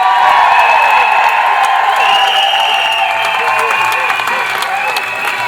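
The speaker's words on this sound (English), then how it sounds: "Give her a big round of applause" An audience at a rally or speech breaks into loud, sustained applause with whoops and cheering voices mixed in, continuing strongly throughout.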